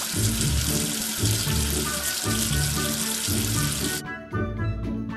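Running water hisses and splashes steadily for about four seconds in a children's number-learning game, under a bouncy repeating musical loop, then cuts off leaving the music with a few light chimes.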